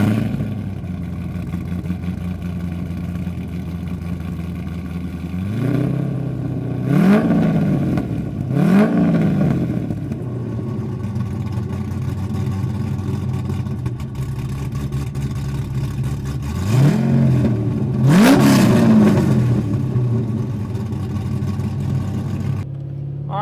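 A 2003 Chevrolet Corvette Z06 with a swapped LS7 V8 out on a drive, a deep steady engine drone heard from inside, rising in a few strong revving pulls through the gears before settling back to cruise.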